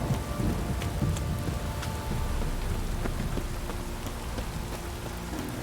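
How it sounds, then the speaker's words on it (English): Heavy downpour in The Witcher 3: Wild Hunt, a dense steady hiss of rain hitting surfaces with scattered sharp drip accents, loud and continuous with no voices. "This downpour's a bastard"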